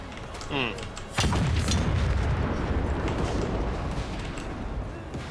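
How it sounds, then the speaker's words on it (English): A large cannon fires in the video game Total War Warhammer III, giving one heavy boom that rolls into a long, loud rumbling decay after a short earlier whoosh. "That's not a lot of recoil for a cannon that big."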